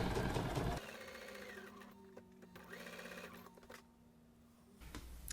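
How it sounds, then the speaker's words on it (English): A sewing machine stitches quilt pieces with a scant quarter-inch seam, a close whirring run that starts after a short noisy moment, then slows and stops, with faint handling at the end. "stitching with a scant 1/4 inch seam allowance"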